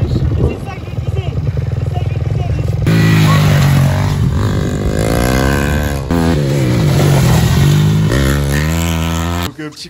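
A motorcycle engine revs and shifts through rising pitches, loud and close, with wind rushing over it during the ride.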